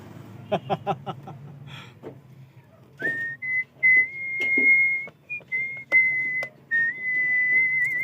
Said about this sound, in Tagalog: Habang bubuksan natin ito, papasipol-sipol muna tayo.